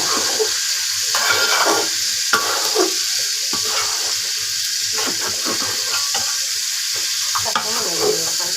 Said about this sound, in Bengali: খুব ভালোভাবে নাড়তে নাড়তে চালকে লাল করে নিতে হবে।